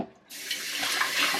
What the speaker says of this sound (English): I also wanted to get my Stanley cup here washed and filled with water.